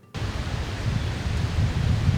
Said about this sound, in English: It's real windy out this morning.